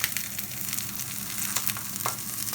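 Morrisons sirloin steak sizzles steadily in a frying pan, a close, continuous crackle with scattered sharper pops throughout and no voices.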